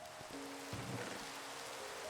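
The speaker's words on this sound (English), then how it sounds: "I wish you could just sleep whenever it's raining in this game" Steady rain hiss from the Minecraft video game, a soft even wash throughout with a couple of faint tonal notes over it.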